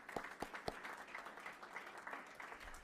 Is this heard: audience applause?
yes